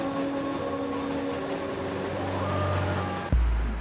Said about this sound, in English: The 7 train winds over and through Queens like a main cable.